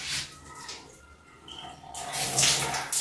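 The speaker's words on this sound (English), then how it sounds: "I like to drench it completely using warm water." Warm bottled water poured over hair to drench it on wash day, a gushing, splashing flow that thins in the middle and swells louder toward the end, close and with no talk.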